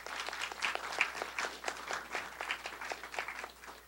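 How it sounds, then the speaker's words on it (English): An audience claps for a panelist at a college idea pitch competition, crisp individual claps from a modest crowd, fairly quiet and slightly uneven, with no talk. "Let's give a big round of applause for Bonnie Knopf"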